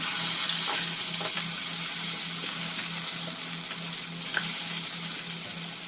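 Ash gourd sizzles steadily in a hot pan, with occasional scraping stirs and light clinks over the continuous frying hiss.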